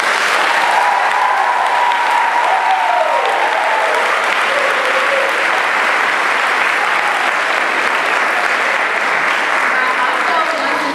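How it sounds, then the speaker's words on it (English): A large audience at an institute closing ceremony gives sustained, loud applause for district and school partners, a thick continuous roar of clapping with faint voices mixed in. "please join me in giving our district and school partners a big round of applause"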